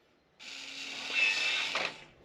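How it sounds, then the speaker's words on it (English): A WiFi retrofit smart lock motor on a front door whirs for about a second and a half, a steady mechanical buzz ending in a short click, close and fairly quiet with no talking. "So let's unlock it."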